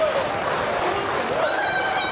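A wrestling crowd at a Louth event in 2016 applauding: dense, even clapping from many hands, continuous and loud throughout, with a commentator talking over it.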